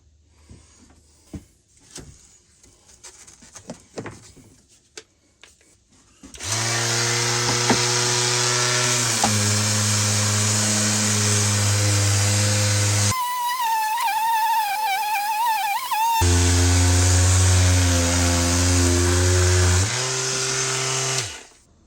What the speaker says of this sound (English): the mouse sander is a lot less vibration in your arm